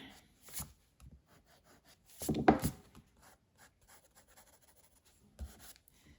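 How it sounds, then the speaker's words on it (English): Pencil shading on a side-profile portrait drawing rubbed out with an eraser, a few quiet close scrubbing strokes with one louder burst of rubbing in the middle, alone. "so I'm just rubbing that back out with the rubber"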